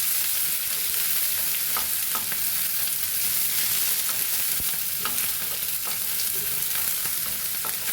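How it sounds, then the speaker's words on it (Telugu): Onions, green chillies and curry leaves fry in oil while being stirred, producing a constant, loud crackling sizzle with scattered spatula scrapes and taps, heard up close and alone. "ఉల్లిపాయలు వేస్తున్నాను, అలాగే పచ్చిమిరపకాయలు, అలాగే కరివేపాకు, మొత్తం అన్నీ వేసి కలపాలండి బాగా."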